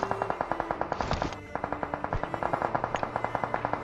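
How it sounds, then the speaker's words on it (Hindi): Rapid automatic gunfire in a battle royale shooter, a fast regular stream of sharp loud shots that continues steadily with a brief break, with no talking over it. "अब जो ये फायरिंग हो रही है इसको जस्ट आप नोट करो"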